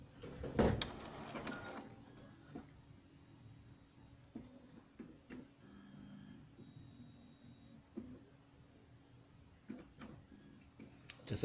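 Epson printer with a continuous ink system initializing after power-on, an opening clunk followed by scattered mechanical ticks, whirs and clicks at irregular intervals, close and fairly quiet.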